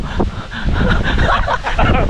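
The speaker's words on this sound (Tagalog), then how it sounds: "Uy, lumalakas po ang hangin." Strong wind gusting outdoors, a loud rushing roar buffeting the microphone with steady low rumble throughout.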